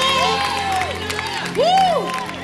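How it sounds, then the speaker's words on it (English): Church congregation clapping and cheering in praise during a morning service, a steady crowd roar with rising whoops and voices swelling loudly midway. "Let's give the Lord a big praise clap."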